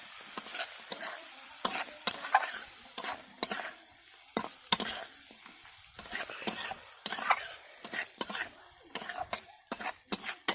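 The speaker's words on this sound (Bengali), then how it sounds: "ভালো করে নাড়াচাড়া করে নিচ্ছি।" Fried lata fish stirred through oily masala in a frying pan, with repeated scraping and clattering strokes and a sizzle underneath, close and fairly loud.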